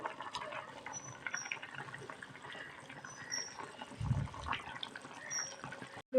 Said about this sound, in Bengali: সুন্দর ফুটে গেছে এবার মাছ দিয়ে দেবো